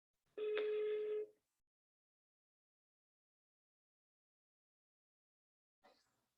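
An outgoing telephone call rings once with a single steady ringback tone lasting about a second, followed by long quiet and a faint brief sound near the end.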